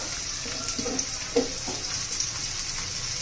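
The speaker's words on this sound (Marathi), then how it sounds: "आता त्याच्यातच आपण दोडका पण घालून घेऊया. लसूण आणि तेलामध्ये चांगला आपण दोडका शिजवून घेणार आहोत." Ridge gourd cooks in garlic and oil with a soft, even sizzle throughout, broken by a few faint stirring clicks and scrapes near the middle.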